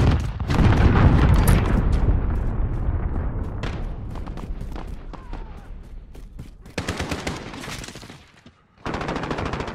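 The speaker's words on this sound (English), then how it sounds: "Cruise missile away." Cruise missile explosion in Call of Duty Modern Warfare team deathmatch, a loud booming blast at the start amid rapid crackling gunfire and bursts, with further sharp shots and bangs scattered after.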